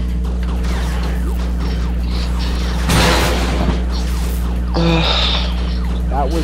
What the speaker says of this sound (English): I blew up a nuke as the clunk self-destructed, so it was just a massive explosion